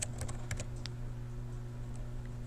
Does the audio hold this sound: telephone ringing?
no